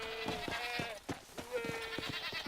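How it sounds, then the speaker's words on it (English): A goat in the video game Red Dead Redemption: Undead Nightmare bleats in two long, wavering calls, close and clear, with soft clicking beats and game ambience beneath. "Oh, there's a goat."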